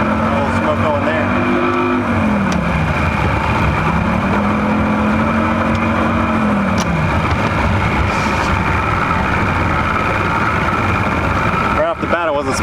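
A cheap outboard motor runs after a Seafoam shock treatment, its steady loud engine drone continuing throughout with a pitch that rises and falls as it is revved, ending with a brief clatter near the end.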